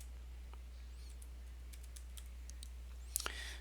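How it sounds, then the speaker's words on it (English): Faint, sparse keystrokes on a computer keyboard while typing a Linux command in a quiet room, ending with a few louder clicks. "let me see if I can type this out for you"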